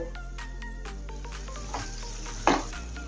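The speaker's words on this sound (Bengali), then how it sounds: "আমি আরও একটু লাল করে ভেজে নেব" Paneer gulab jamun balls deep-frying in hot oil, a steady close bubbling sizzle with two brief louder bursts of crackle near the end and no voices.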